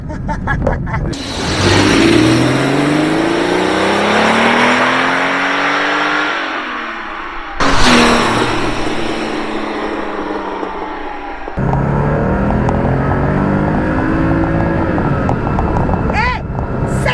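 Porsche 930 911 Turbo engine revving hard toward 7000 rpm in repeated pulls, pitch sweeping upward with gear changes, loud and close from inside the car, with talk in between.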